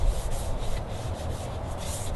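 Sandpaper wet-sanding chalk-painted wooden furniture, giving a continuous, close rasping rub with slight rhythmic back-and-forth swells and no talking.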